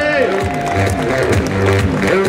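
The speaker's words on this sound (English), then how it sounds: "Give them both a big cheer." A crowd at a gaming expo zombie dance-off claps and cheers for the contestants, the sound steady and full under loud speech.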